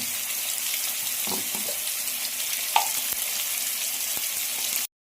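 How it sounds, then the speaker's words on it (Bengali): Potatoes seasoned with salt and turmeric stirred in a hot frying pan, a steady close sizzle running throughout with a few soft scraping knocks from the stirring. "নুন আর হলুদ গুঁড়ো দিয়ে একটু নেড়ে দিয়ে"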